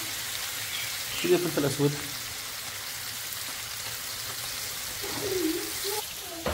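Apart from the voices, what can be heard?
chicken and potato mixture frying in hot oil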